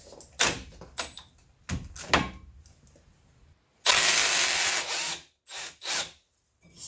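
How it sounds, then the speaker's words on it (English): A 1/2-inch impact wrench removes a caliper carrier bolt on a Renault Trafic wheel hub. Several clanks and clicks come first, then one loud burst of hammering lasting about a second, followed by two short whirring spurts. "I'm gonna be using my 1/2" impact wrench here."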